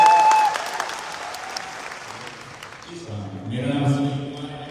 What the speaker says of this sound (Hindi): ताली तो बजाओ यार